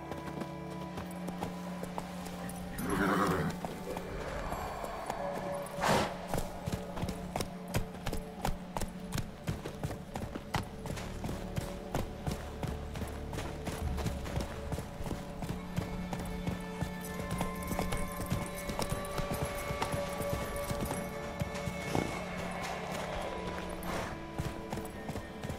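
Horse hooves clip-clop steadily and rhythmically through the Witcher 3: Wild Hunt video game, with an occasional faint whinny heard over a busy background of music and game ambience.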